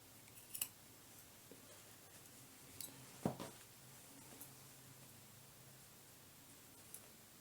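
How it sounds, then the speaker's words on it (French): Scissors snipping off the protruding end of a piping cord on fabric for a zipped tote bag, a single faint crisp cut with a few soft rustles in a quiet room. "je coupe le bout du cordon qui dépasse"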